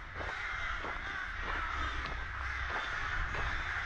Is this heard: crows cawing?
yes